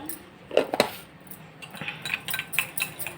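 A spoon mixes curd with kasturi turmeric in a bowl, giving close, light clinks and taps against the sides, a couple of sharper knocks at first, then quicker soft strokes.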